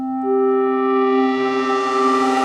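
A sustained tone from a Minilogue XD analog synth, processed through a modular synth and delay, rings as a bright harmonic drone. A second, higher layer swells in early and holds with a soft echoing shimmer.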